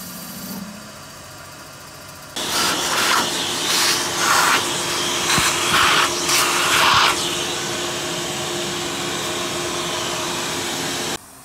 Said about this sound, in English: here's an up close look of cutting the exhaust seat